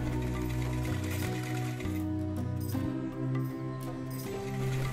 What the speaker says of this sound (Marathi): त्यानंतर खालीपर्यंत आपल्याला डबल फोल्ड करून पूर्ण शिलाई मारून घ्यायची आहे